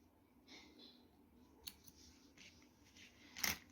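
Small scissors snip crochet yarn on an amigurumi, a quiet, crisp cut with one brighter snip near the end and a few faint clicks before it.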